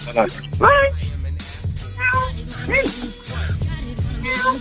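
A cat meows several times in short, rising cries, close by, mixed in with people talking.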